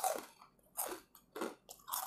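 Crunchy fried banana tree trunk chips, fish-flavoured, are bitten and chewed in four or five crisp, close crunches spaced about half a second apart, with no talking.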